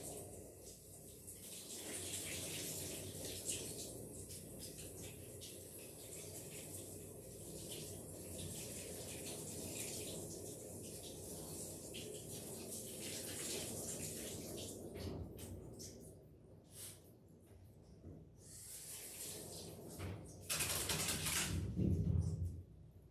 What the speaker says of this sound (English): I'm going to go ahead and rinse it out real quick.